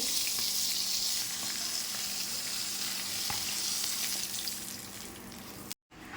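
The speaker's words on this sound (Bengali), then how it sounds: "এবার পটলগুলোকে ভেজে নেব।" Stuffed pointed gourd (potol) frying in hot oil gives a loud, steady, close sizzle that continues almost unbroken, with a brief cut near the end.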